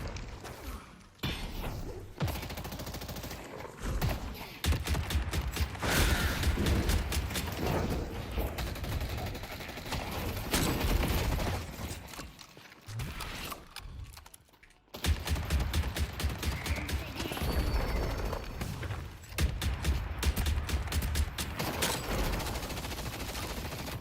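Video game gunfire in long repeated bursts of rapid shots, loud and dense, broken by a few short pauses and a brief near-silent gap midway.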